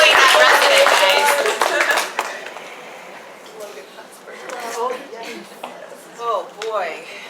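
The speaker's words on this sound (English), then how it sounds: "so round of applause for Monisha." A medical training audience applauds after a case, a burst of dense clapping at the start that tapers off, followed by quieter talk and a few laughs.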